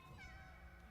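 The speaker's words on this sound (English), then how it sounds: "Is there a random kitty over here" A cat meows in a video game, a short drawn-out mewing heard close and steady for about a second over a faint low background hum.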